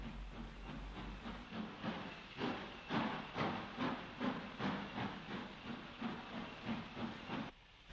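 A Hudswell Clarke 0-4-0 saddle tank steam locomotive shunting at a brewery in 1962, its exhaust puffing in a steady rhythmic chuff under continuous steam hiss at moderate distance.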